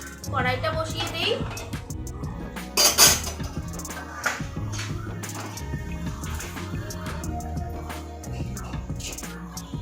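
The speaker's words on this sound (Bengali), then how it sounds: "কড়াইটা বসিয়ে দেই।" A metal kadai is set down on a lit gas stove in a home kitchen while a vegetarian chal potol dish is being made, giving one sharp clank midway, with a softer utensil clatter around it and faint background noise.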